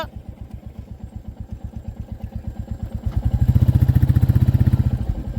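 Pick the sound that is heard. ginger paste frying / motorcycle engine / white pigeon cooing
motorcycle engine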